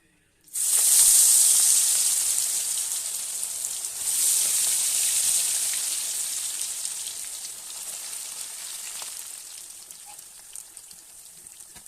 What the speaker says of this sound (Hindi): बस अब हम इसको इसमें डीप फ्राई करेंगे